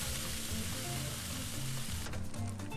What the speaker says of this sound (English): this is making me want french fries. That sizzle, man.